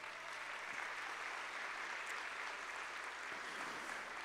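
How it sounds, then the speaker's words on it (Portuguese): A church audience applauds, a soft, distant, steady wash of clapping that stays even and quiet from start to finish. "uma salva de palmas para Jesus."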